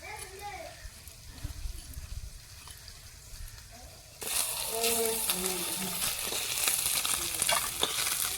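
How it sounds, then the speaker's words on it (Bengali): Oil sizzles steadily, jumping louder midway as fish hits the pan, with a hiss of frying filling the rest of the clip. "মাছ ভাজা হয়ে গেল"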